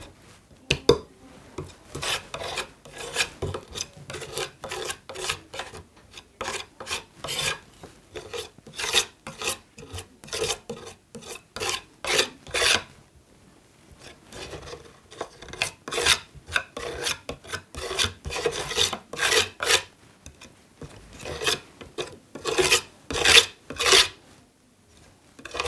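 Cadence crystal relief paste gets spread and scraped across a stencil on a flat surface. Steady rasping strokes repeat in rhythm, loud and close, with brief pauses between passes.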